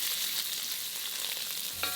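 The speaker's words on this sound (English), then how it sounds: "To stir fry in a wok over high heat, add the avocado oil or any oil of your choice." Shrimp stir-fry in avocado oil in a wok over high heat, a close, dense sizzle that stays steady, with a brief stirring scrape near the end.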